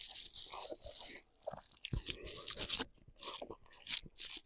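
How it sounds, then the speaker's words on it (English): Crunchy Supreme fries topped with beef and sauce being chewed close to the mouth, with irregular bursts of crisp crunching and softer mastication between pauses. "Let's try these Supreme fries."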